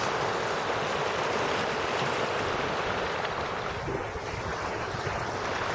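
River water flows in a steady, continuous rush close by outdoors, a broad, even wash of sound with a light wind-like hiss and no talking.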